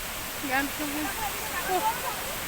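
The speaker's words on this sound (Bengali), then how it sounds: "আমরা এখন ঝর্ণা দেখতে এসেছি" A waterfall in the hills around Gangtok gives a continuous broad rushing wash of water, steady and enveloping, while people talk over it.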